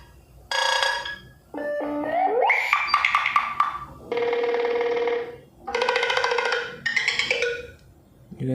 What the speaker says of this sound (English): Click on phone ringtone.